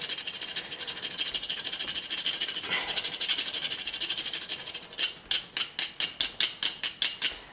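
A fresh nutmeg is rubbed over a tiny grater in a continuous rasping scrape, then in short, evenly spaced strokes, each a distinct scratchy pass, close and fairly loud.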